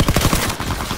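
Rapid bursts of automatic gunfire from Call of Duty WWII crackle loudly in a quick, closely spaced volley lasting about a second.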